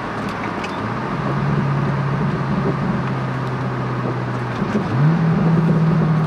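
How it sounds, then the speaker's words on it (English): A Chevrolet C5 Corvette fitted with a C5R racecar shifter drones steadily from inside the cabin. The engine note shifts pitch as it downshifts, then rises again in a louder rev toward the end. "Let's get some downshift action to see how it is."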